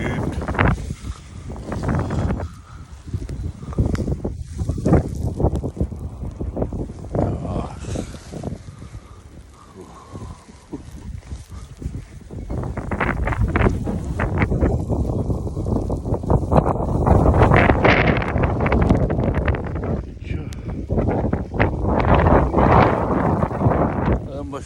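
A January blizzard's wind rushes and gusts around a spot with about two feet of snow on the ground, a rough, roaring noise that swells stronger in the second half.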